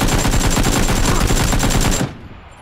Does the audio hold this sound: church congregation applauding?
no